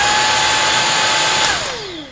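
A TOPPIN cordless stick vacuum cleaner whines with a high, steady motor hum, then switches off and spins down with a falling pitch near the end.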